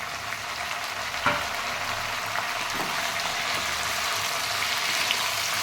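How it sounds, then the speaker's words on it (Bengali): Taro and potato pieces fry in a pan with onion paste, making a continuous close sizzle broken by a couple of soft utensil knocks. "আর একটু ভালো করে ভেজে নেব।"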